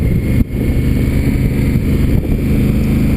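A 2016 Honda Africa Twin rides along with a loud, steady engine drone mixed with heavy wind rush, and a brief dip partway through.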